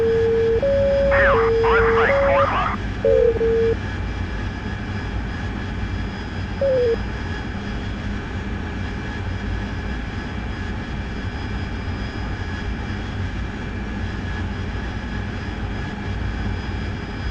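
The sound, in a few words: jet aircraft engine in flight, DCS World video game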